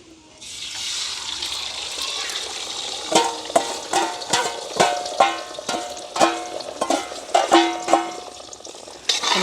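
Five beaten, lightly salted eggs fry in a little hot oil with a steady hiss, followed by a run of regular scraping and stirring strokes in the pan, close and fairly loud.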